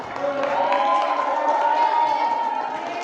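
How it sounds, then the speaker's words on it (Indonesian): An audience applauds at an Islamic ranking quiz contest held at a mosque to welcome Ramadan, with a steady wash of clapping and crowd noise sustained for about three seconds. "Kasih tepuk tangan dong."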